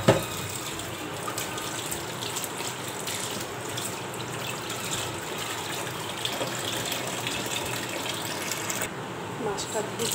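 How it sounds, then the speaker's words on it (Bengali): Tap water runs steadily into a sink while hilsa fish is washed, a constant close splashing gush lasting throughout without pause. "এবার এই মাছটাকে ধুচ্ছি।"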